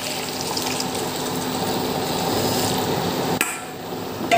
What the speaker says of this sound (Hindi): गरम पानी डाल रही हूँ